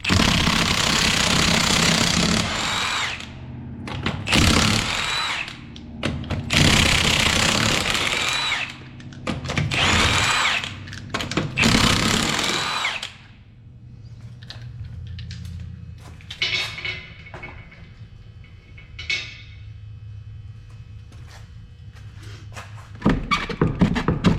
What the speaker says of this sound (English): Let's go ahead and drop our rim by removing our 5 19mm bolts, or lug nuts.